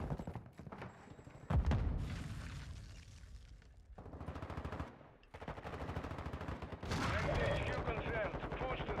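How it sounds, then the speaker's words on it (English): A light machine gun fires in long rapid bursts in an online shooter match, its dense automatic rattle repeating close and loud, broken by brief pauses between strings of shots. "Just got a light machine gun going ham over there."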